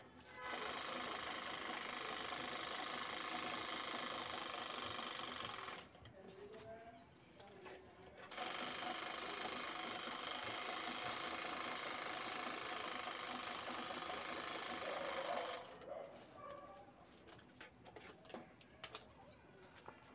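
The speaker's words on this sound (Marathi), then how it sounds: "त्यानंतर मी साईडची शिलाई दाखवते" A sewing machine running steadily while stitching the side seam of a quilted cloth shopping bag, a continuous mechanical whir in long runs with two short stops, and faint birds in the background.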